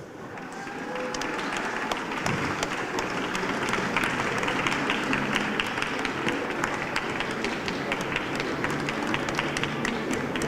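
Sustained applause from a large audience at a startup pitch competition final in Taipei, dense and steady clapping that continues for the whole stretch without talk.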